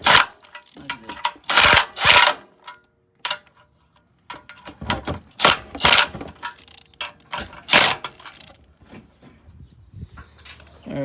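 A 17mm socket wrench snugging bumper bolts on a Toyota Sequoia during an ARB bumper install: loud, close, irregular bursts of ratcheting and metallic grinding, separated by short pauses.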